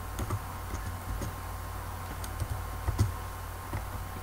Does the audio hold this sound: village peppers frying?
no